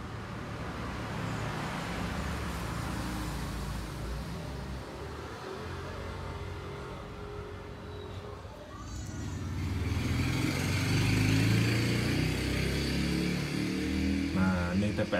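A motorcycle engine on a fuel-injected bike undergoing a throttle position sensor check runs steadily and then revs louder partway through. The sound is close, mixed with a broad background rumble.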